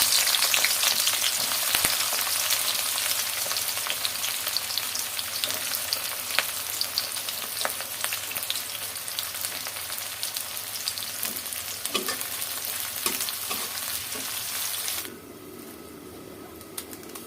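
Onions frying in a pan while bele fish is cooked, a loud steady sizzle with scattered stirring clicks, dropping to a quieter hiss near the end, with no talking.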